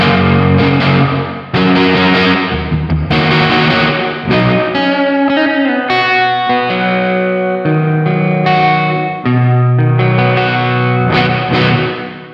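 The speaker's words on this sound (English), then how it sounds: "Then we move up to hall. It's going to be a longer reverb." Electric guitar played through a Sonicake effects pedal on its hall reverb setting: distorted chords and single-note lines ring out alone with a long, spacious tail, loud and close with brief pauses between phrases.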